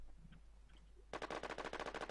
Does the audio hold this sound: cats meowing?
no